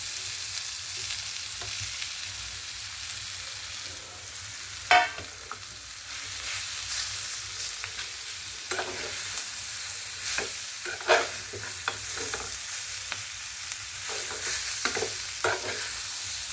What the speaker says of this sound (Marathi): हे चांगलं भाजून झाल्यानंतर मी याच्यामध्ये आपला उकडलेला जो बटाटा आहे तो टाकणार आहे।